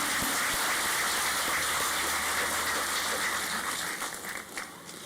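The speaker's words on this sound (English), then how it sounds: "Please, one last round of applause for all of the nominations and recipients." Audience applause at an Australia Day awards ceremony in Murray Bridge, honouring nominees and recipients; a dense, steady wash of clapping runs throughout, easing slightly near the end.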